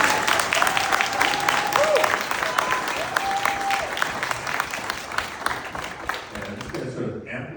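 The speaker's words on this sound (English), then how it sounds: "let's give him a round of applause." A round of applause from an audience at a brain injury advocacy event on Capitol Hill, steady dense clapping that holds for several seconds before fading out, with a few voices underneath.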